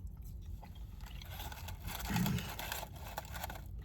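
Someone chews crunchy McDonald's fries close to the mic, with soft, repeated crunching and biting sounds in a quiet room and no talking.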